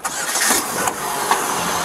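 A white four-door sedan's engine cranks and catches, then runs with a rough mid-pitched hum as it drives off, close by, with a couple of sharp clicks over it.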